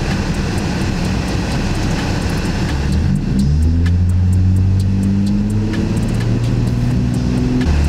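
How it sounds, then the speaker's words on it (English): A loud car engine revs up after radiator replacement, pitch climbing and holding in a steady drone, heard close by with no talking. "I'm gonna start revving this"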